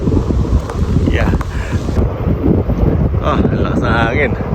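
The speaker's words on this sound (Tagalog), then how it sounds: "Ang lakas ng hangin." Strong wind gusts buffet the microphone in open Birds Hill Provincial Park, where kites are being flown, a loud, constant low roar with brief faint voices in the background.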